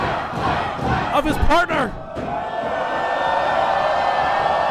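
Sold-out wrestling crowd at a tag-team match roaring and cheering loudly, with shouts rising over a commentator's talk and settling into a sustained crowd din.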